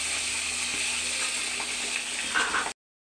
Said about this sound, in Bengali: তো ওদের মাছটা ভাজা হয়ে গেল দেখতে পাচ্ছ